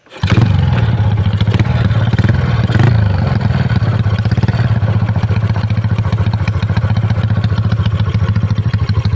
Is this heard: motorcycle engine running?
yes